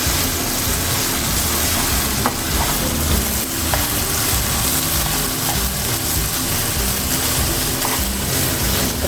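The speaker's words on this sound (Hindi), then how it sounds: "अच्छे से इसको हम फ्राई कर लेंगे।" Chopped capsicum fries in a pan for Singaporean rice, a dense, loud, continuous sizzle with a few faint clicks of stirring.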